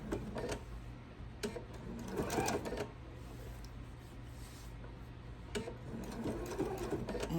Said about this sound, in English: And once I can go straight again, I'm just going to sew to the end.